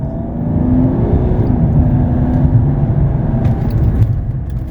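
A 2006 Mercedes E320 CDI with the OM648 diesel engine pulls hard under acceleration, a loud, steady low rumble and drone heard close from inside the car, with no talking.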